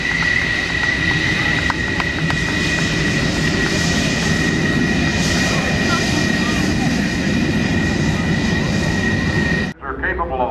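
F-14 Tomcat fighter jets at a naval air show, a loud continuous jet roar with a steady high whine filling the whole stretch before cutting off abruptly near the end, with a voice briefly audible.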